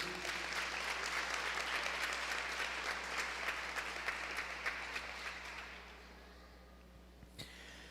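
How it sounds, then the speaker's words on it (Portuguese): A church congregation claps together in dense, steady applause that fades out after about six seconds, leaving a quiet hall. "Você pode aplaudir o nome de Jesus."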